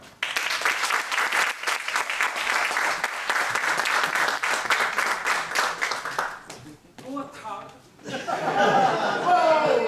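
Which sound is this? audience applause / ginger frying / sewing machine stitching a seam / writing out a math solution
audience applause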